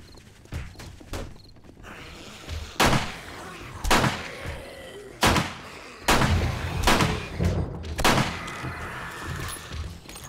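Gunshots in the zombie survival game 7 Days to Die: about five or six loud, sharp single shots spaced irregularly, each with a short echoing tail, preceded by a few fainter cracks, over a low rumbling background.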